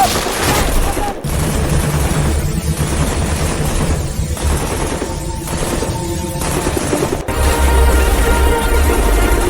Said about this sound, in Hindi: हम पर गोली चलाई जा रही है